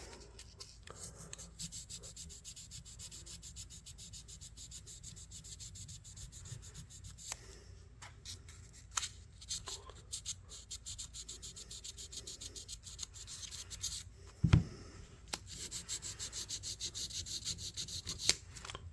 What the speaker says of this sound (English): let me sand on it here just a little bit